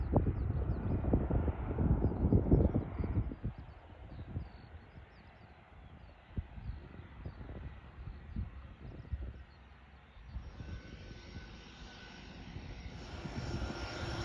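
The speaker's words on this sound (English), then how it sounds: "it is so cool to see a plane land and taxi its way up a beach" A propeller plane's engine roars loudly as it lands on a beach, then settles to a lower drone mixed with wind and rumble as it taxis along the sand.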